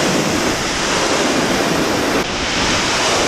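Water pours over and under a jam of logs in the bush after little recent rain, a steady loud broadband rush that runs unbroken and close throughout, with no talk.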